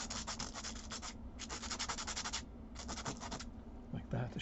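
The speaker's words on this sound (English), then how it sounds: "begin by sanding very lightly at first" Sandpaper rubs lightly back and forth in three short bursts of rhythmic scratching, close up, with a faint voice at the end.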